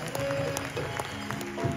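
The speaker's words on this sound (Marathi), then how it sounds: "याच्यासाठी एकदा जोरदार टाळ्या वाजवा." Applause from a crowd at a folk performance and state-level award event, a dense burst of clapping that fills the whole brief moment at a steady level.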